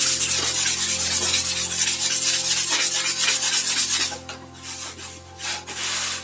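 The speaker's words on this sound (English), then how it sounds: "Use any edge to slide that piece of foam" A piece of foam slides and rubs off a cut-out wing spar during foam-core wing lamination on a Tuffbirds Tuffstar trainer airplane, giving a steady close scraping rasp for about four seconds, then quieter scattered rubs.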